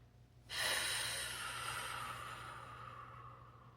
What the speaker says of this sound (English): listen to how I'm breathing.